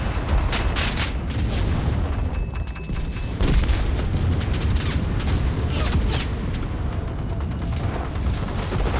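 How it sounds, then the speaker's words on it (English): Artillery explosions in the Enlisted video game rumble as dense, continuous booms and blasts layered with scattered gunfire, loud and unrelenting throughout. "Artillery!"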